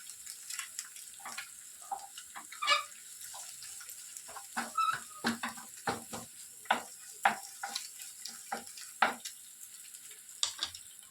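Pieces of egg stirred and turned in a frying pan while cooking egg semiya upma, giving soft scraping clicks and irregular spatula taps over a faint sizzle, quiet and close with no talking.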